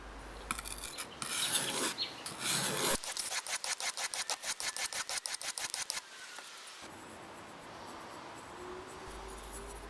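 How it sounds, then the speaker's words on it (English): A plane cutting iron is honed on an oilstone with a series of rhythmic back-and-forth rasping strokes, close and dry, the strokes speeding into a quick run before the grinding stops. "Now we'll repeat that honing process to raise a fine wire edge across the blade."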